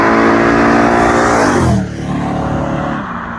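A faulty Chevrolet 350 V8 with a new cam and pump revs loudly inside a Holden HQ, a rough, throbbing roar that holds high before dropping away sharply into a lower idle, with no talking.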